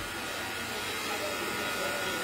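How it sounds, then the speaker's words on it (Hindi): A vacuum pump runs during an air conditioner repair, giving a loud, steady mechanical whir with a hiss that holds without change from start to finish. "ये देखिए हमारे पास ये वैक्यूम पंप है इस वैक्यूम पंप से अपन एयर निकालेंगे"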